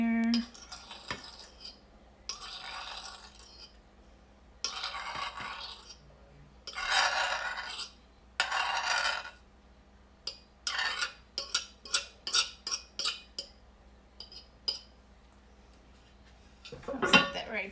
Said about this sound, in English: I'm just gonna incorporate these together and get the albacore.